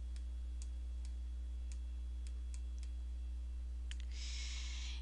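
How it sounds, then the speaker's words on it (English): Faint, sparse computer mouse clicks in Photoshop, single sharp ticks spaced irregularly over a steady electrical hum, with no speech. "Go up to Window and then click on History."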